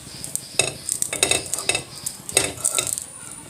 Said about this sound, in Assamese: এই ৰিফাইন তেল অলপ এইদৰে দি লৈছোঁ কেৰাহীখনত